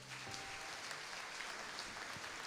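An Assemblies of God congregation giving a warm round of applause during a worship service, a soft, distant-sounding, even wash of many hands clapping that continues throughout.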